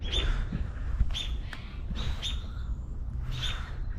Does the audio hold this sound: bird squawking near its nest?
yes